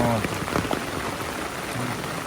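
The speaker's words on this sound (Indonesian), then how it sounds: "lebat lagi hujannya sana-sana nih" Heavy rain pours during a flood in Gurun Panjang, Bayang, Pessel, a dense steady hiss of drops drumming on surfaces, close and loud throughout.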